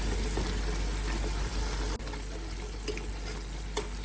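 Onions and masala fry on full flame for beef paya, a steady moderate sizzle with occasional stirring clicks over a low continuous hum.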